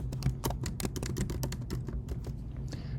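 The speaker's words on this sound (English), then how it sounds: "I'm going to type my text." Fingers type quickly on a computer keyboard, a close, steady run of crisp clicking keystrokes with a few brief pauses, no voices over it.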